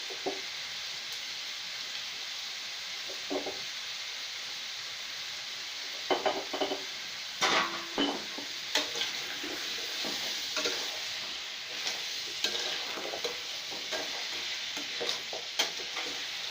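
A spoon stirs a pumpkin and paneer curry in a pan. Soft scraping strokes come up close over a steady sizzling hiss, with occasional clatter against the pan and no voices.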